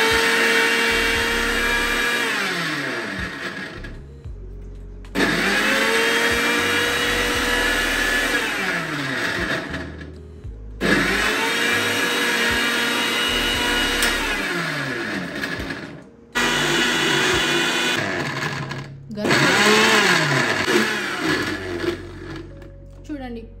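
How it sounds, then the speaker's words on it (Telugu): A mixer grinder grinds fruit pulp in four loud, close bursts, its motor whine rising to a high pitch and sagging as the load shifts, with brief pauses between runs. "చూడండి ఇలా తిప్పితే పల్ప్ కొంచెం కొంచెం కొంచెం కొంచెం మంచి గ్రైండ్ అవుతుంది"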